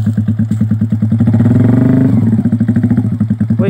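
A loud motorcycle engine runs nearby with a rapid pulsing idle, revving up briefly in the middle before settling back to its steady chug.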